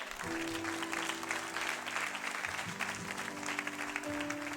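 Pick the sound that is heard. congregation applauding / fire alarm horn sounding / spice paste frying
congregation applauding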